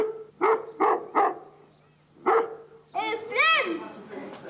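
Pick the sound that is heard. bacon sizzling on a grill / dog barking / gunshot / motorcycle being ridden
dog barking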